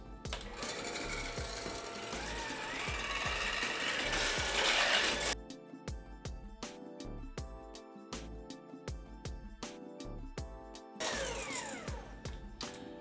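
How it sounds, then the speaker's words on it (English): Stand mixer with a whisk attachment whipping cream at medium to high speed, a loud continuous mechanical whir that changes pitch partway through, with a rhythmic rattling hum and no talking. "with the whisk attachment, you want to whisk this up at a medium to high speed until it gets nice and fluffy."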